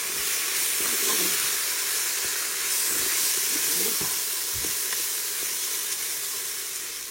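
Rinsed rice sizzles loudly in a hot pan as it browns, a steady bright hiss with faint crackles running throughout, no voices.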